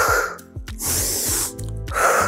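A steady, breathy exhale during a beginner pilates exercise, two soft airy bursts of breath following a short intake, close and alone with no talk.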